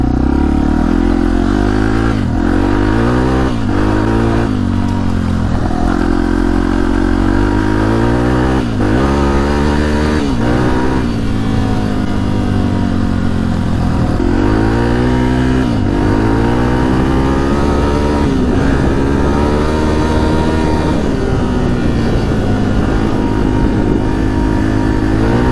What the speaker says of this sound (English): Bike is really smooth, isn't it? It's running great.